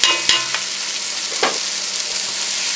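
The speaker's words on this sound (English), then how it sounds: "I'll just give it a stir." Madras curry powder frying with chickpeas and mushrooms in a curry pot: a loud, continuous sizzle with a couple of sharp scrapes as the mixture is stirred.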